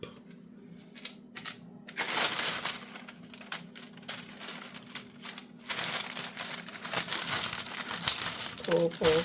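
Adhesive tape pulled off a roll during a crafting session, heard as crackly, crinkling rips in several bursts close by, mixed with rustling handling noises.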